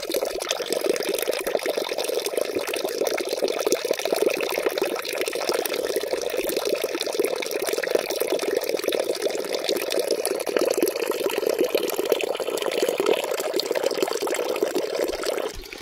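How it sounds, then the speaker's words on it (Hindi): Water from a village spring (naula) in Uttarakhand runs steadily into a bottle, a continuous close splashing and gurgling flow with no talk. "मैंने भर लिया है पानी अपने लिए पर्याप्त, एक बोतल"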